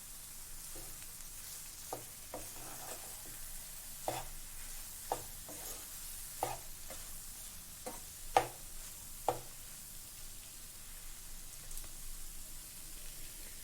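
Rice stirred into a tomato and coriander mixture in a pan, soft scraping strokes with scattered sharp clicks of the spoon over a steady low sizzle, fairly quiet and without voices.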